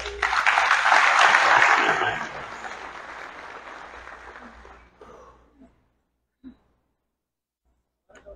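A church congregation bursts into loud, dense applause for the Lord that peaks early, then gradually thins and dies away into near silence with a couple of faint stray sounds.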